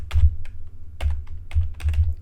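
Keys tapped on a computer keyboard while entering relative coordinates in Rhino 3D modeling software: short bursts of crisp clicks in clusters, close and clear, with no talking.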